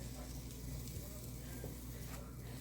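Sausages frying in a pan, a soft continuous sizzle with low hum underneath, quiet and steady.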